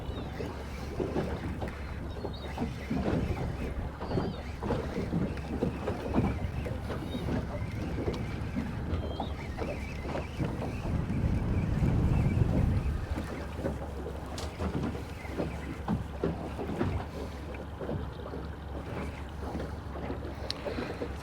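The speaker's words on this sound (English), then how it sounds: "the wind's picked up a lot" Strong wind gusting across open water during bass lure fishing from a small boat near a rocky shore, a steady rough rumble of wind buffeting the microphone with a louder surge midway, no talking.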